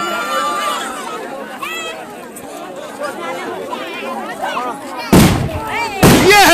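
Firecrackers burst at a wedding celebration, two sharp, loud explosions about a second apart that cut through a bustling crowd of chattering voices.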